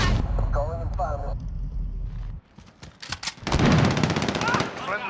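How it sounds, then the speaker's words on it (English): A Modern Warfare video game match with rapid gunfire and heavy blasts from a precision airstrike, loud and dense. A radio-style voice talks at the start. "Precision airstrike on the way."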